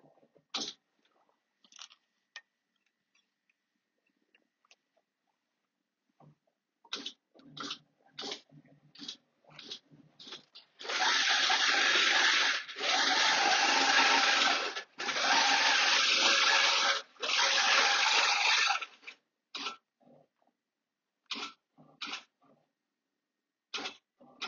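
A computerized quilting machine with Pro Stitcher stitches a quilt, starting with scattered clicks, then running as a loud, steady whirring hum in several long stretches before more isolated clicks return.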